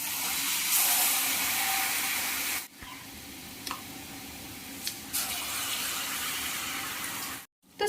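Batata vadas dropped one by one into hot oil, a loud bright sizzle that cuts out briefly twice between drops and then surges back.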